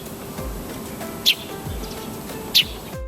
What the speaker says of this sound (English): A sparrow chirps sweetly in the trees.